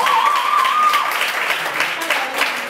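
An audience at a live concert applauds, a dense, steady patter of many hands clapping close by, with a voice briefly audible at the start.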